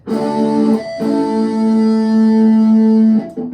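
A guitar plays the verse riff of a song, short sustained, ringing chords with a brief break between phrases, clear and close with no talking.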